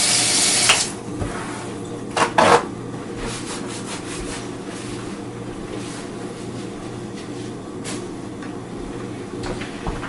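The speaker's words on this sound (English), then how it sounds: "I'm going to wash my hands before I start handling everything else" Hands washed under a running kitchen tap at a sink, a steady broadband water rush throughout with a louder splashing burst near the start and a couple of brief rubbing surges midway.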